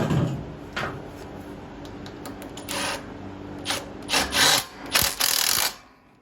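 Wrench tightening a nut on a carriage bolt during repair of a Craftsman LT2000 lawn tractor, with bursts of rasping, ratcheting scrapes and metallic clicks, close by and getting busier toward the end.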